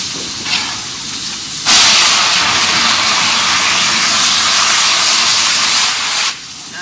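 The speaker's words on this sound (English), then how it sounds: "That was known as blowing down the boiler." Steam locomotive on the Georgetown Loop scenic railway in Colorado blowing down its boiler: a loud, steady broadband hiss of escaping steam bursts in abruptly, holds for several seconds, then cuts off, with softer hissing before and after.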